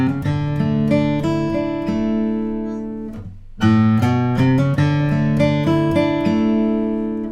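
Country riff picked on an acoustic guitar, starting on the open fifth string, with bright, clear single notes and chords that ring steadily and pause briefly midway before resuming; no talking.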